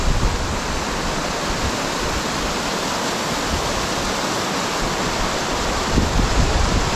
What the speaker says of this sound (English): I can see already the waterfall going in.